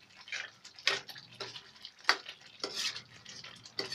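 A spice mixture for chole is stirred in a pan, a spoon scraping and tapping in irregular strokes over a soft sizzle, close and moderately quiet with no talk.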